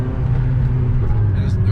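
Cars and an Isuzu truck and van rumble past on a street, a steady low engine and road drone filling the whole stretch with voices talking over it.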